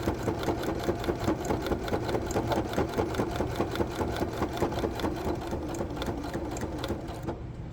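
A sewing machine runs steadily, stitching backpack fabric with a straight quarter-inch seam, its rapid even needle rhythm close and continuous before slowing near the end.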